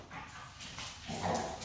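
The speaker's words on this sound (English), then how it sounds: "That little growl you hear, that's just the way they communicate." A dog growls in low, rumbling bursts while tugging on a toy in play, close and fairly quiet, with a faint whimpering edge.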